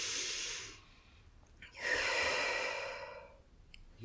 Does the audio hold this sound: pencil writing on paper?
no